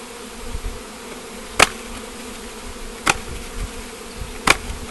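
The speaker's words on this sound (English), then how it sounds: "If you want to come over here, Danny, you can see the bees coming up on the frames." Honey bees buzz as a low, continuous hum close by while a bee package is installed onto hive frames, with three sharp clicks or taps at spaced intervals.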